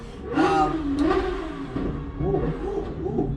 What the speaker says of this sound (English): Somebody's just revving the heck out of their car outside.